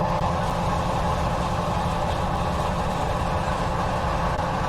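A Caltrain MP15DC diesel switcher locomotive in Train Sim World idles with a steady, low, droning engine rumble that holds level without revving.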